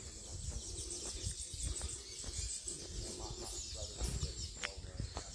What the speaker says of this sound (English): you could just hear all the birds singing for us and waking us up.